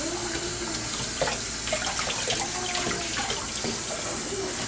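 Tap water runs steadily into a sink while seafood is rinsed under it, a continuous close splashing hiss with small clatters of shells moving and no talking.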